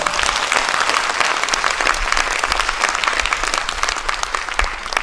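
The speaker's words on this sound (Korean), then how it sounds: "우리 다시 한번 박수 한번 쳤습니다." Dense, loud audience applause fills a church announcements session after a guest pastor's message, a steady unbroken wash of many hands clapping together throughout.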